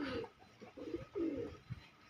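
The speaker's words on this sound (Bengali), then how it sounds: "গোটা 50টার মতো পায়রা আছে" Pigeons from a flock of about fifty birds kept at a home in Konnagar coo softly and close by, in low, rolling, repeated phrases with short pauses.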